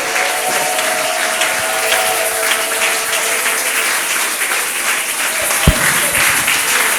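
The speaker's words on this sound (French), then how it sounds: "Est-ce qu'on peut acclamer le Seigneur?" A church congregation applauds and cheers in praise of the Lord, producing a steady, dense wash of clapping that holds at an even, loud level for the whole stretch, with one sharp thump near the end.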